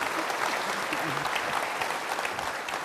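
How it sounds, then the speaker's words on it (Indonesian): A television talk-show studio audience applauds a magic sarong with dense, steady clapping that fills the room at close range for the whole stretch. "Kita tepuk tangan untuk sarung ajaib"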